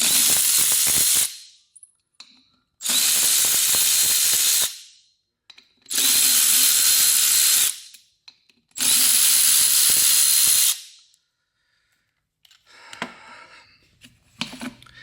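Power tool spinning out 10 mm bolts on a Toyota 4Runner cooling fan clutch, four loud close bursts of whirring each lasting a second or two with pauses between, then faint metallic clinks at the end.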